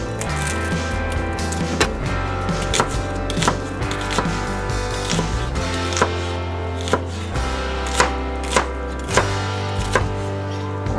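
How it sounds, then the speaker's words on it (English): A knife chops an onion into small pieces on a cutting board, sharp rhythmic knocks landing about once a second, close and fairly loud, over a constant low hum. "And now I'm going to cut up my onion here."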